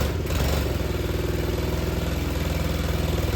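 A quad ATV engine idles steadily after starting, a rough low mechanical chug with a fast even pulse and slight clatter, loud and close, no voices.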